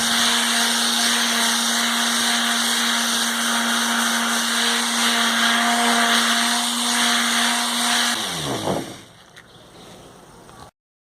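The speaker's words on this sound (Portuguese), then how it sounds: "já saí lixando com a lixa 50" A loud power sander with 50-grit sandpaper whines steadily for several seconds on a wooden workbench top, then winds down and stops, leaving a faint hum before silence.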